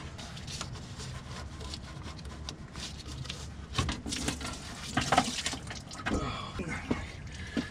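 Antifreeze pouring and splashing out of a 1992 Ford engine during head gasket repair, a continuous liquid trickle with occasional louder gushes and clanks, heard close and fairly quiet.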